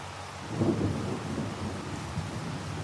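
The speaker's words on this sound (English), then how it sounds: "I love the sound of the storms." A thunderstorm with steady rain in a farming video game, a low rumble of thunder swelling and rolling near the start over a constant hiss of rainfall, with no voices.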